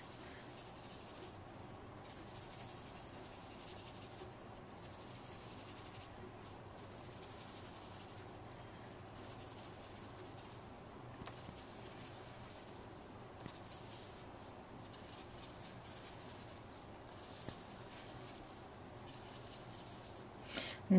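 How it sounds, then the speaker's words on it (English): Pencil lightly shading on paper while drawing Celtic knot ribbons: a soft, continuous scratchy rasp with faint strokes repeating steadily, close and quiet, with no voices. "Sometimes it helps to shade in the bits that I know will be ribbon, just lightly in pencil so I can rub it out later."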